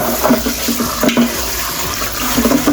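About a cup of rice is rinsed in a pot under a steadily running tap, with loud, constant water splashing and swirling close by.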